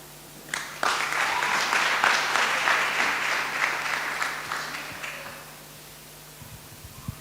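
An audience gives a round of applause at a prize and thanks giving day event, starting abruptly, holding steady and dense for about four seconds, then thinning out and fading to quiet.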